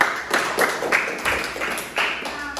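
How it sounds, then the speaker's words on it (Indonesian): A small classroom group claps after a presentation on a modified regional dish, a few scattered rhythmic claps over about three seconds, nearby and moderately loud. "beri tepuk tangannya"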